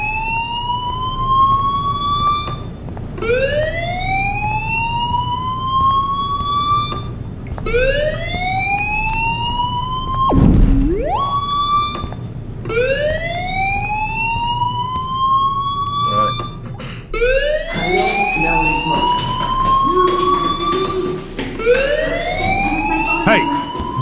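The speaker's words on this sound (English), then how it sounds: "do you hear that fire alarm? That means you should be outside." Fire alarm blaring in the video game Life is Strange: a loud, repeating rising electronic siren wail, cycling every few seconds and sounding close throughout.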